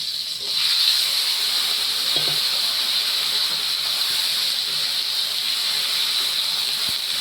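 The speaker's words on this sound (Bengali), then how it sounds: "আমি এবার এই ডাটাটা ঢেলে দিচ্ছি।" A steady, loud hiss of vegetable stems hitting a hot pot, sustained for several seconds with a faint clatter near the start and a single knock near the end.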